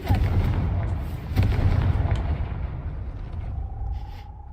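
A Confringo explosion spell cast in Hogwarts Legacy bursts loudly with a booming blast, followed by a rumbling roar that slowly fades under a faint sustained tone.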